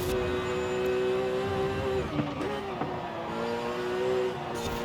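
Car engine in Forza Horizon 5 with a Porsche-like tone, a steady droning hum whose pitch holds, dips briefly as if shifting, then climbs again, with faint transmission whine under it.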